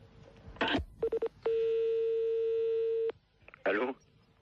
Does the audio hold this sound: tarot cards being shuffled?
no